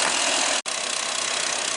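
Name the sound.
2007 Toyota Sequoia 4.7 liter engine idling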